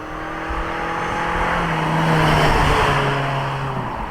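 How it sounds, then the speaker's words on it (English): A Toyota RAV4 XSE Hybrid accelerates hard, its engine note rising into a steady strained drone over road and tire noise from inside the cabin, swelling through the middle and easing slightly toward the end, with no talking. "this does get up and go really fast"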